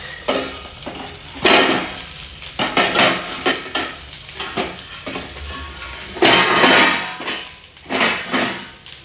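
Fish frying in hot oil in a home kitchen, with spattering sizzle and clattering of a utensil against the pan in irregular bursts, fairly close and loud, no voices.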